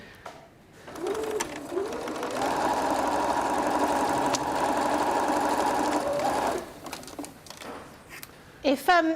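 Sewing machine stitching ragdoll fabric pieces for a soft toy, a steady close whirring run of several seconds with brief starts and stops around it and a voice speaking softly at the edges.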